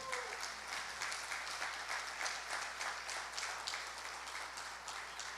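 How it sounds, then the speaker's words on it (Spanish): Worshippers at a family church service clap for the Lord in a steady, continuous round of applause that holds evenly throughout, with a low hum underneath and no voices. "Dale un aplauso al Señor."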